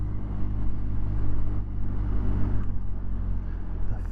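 A 2023 BMW Scrambler motorcycle ridden along a country lane near a river gives a continuous close engine drone with steady low rumble and wind buffeting throughout.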